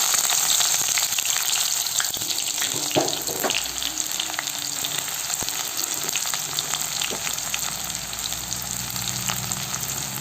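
Chopped onions fry in hot mustard oil for a spinach chicken dish, giving a steady, close sizzle with constant crackle and a few faint stirring clinks, with no voices.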